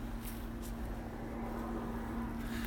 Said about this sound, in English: You'll hear the sounds of passing traffic,